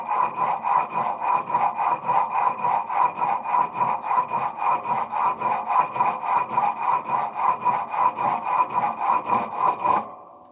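A blade being sharpened: steady, rapid back-and-forth rasping strokes, about two or three per second, close and fairly loud, continuing evenly for ten seconds with no voices.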